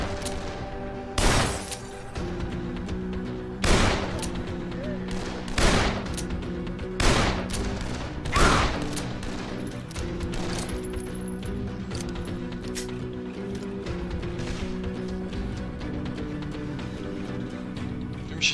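Heavy gunfire in the zombie video game Dead Island: about half a dozen loud, sharp shots spaced a second or two apart. They ring out over a steady bed of game ambience and hum, then give way to quieter background.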